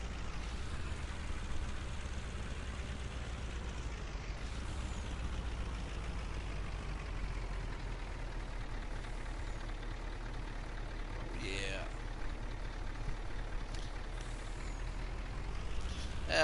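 Logging truck loaded with logs rolling down a hill in a PS4 logging game, a steady low engine drone and rumble throughout, with a brief rising whine near the middle.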